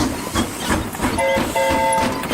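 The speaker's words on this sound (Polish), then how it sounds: "Pociąg delfiny zaraz przyjedzie." A cartoon train pulls in, in a Polish dub of a Peppa Pig episode, with a rumbling, hissing engine, clattering wheels and a couple of short whistle-like tones, fairly loud and continuous.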